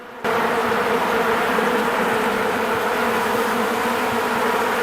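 Honeybees buzz loudly and steadily at close range during an opened hive inspection after a cold Texas winter, a dense continuous drone starting abruptly and holding for several seconds with no voices.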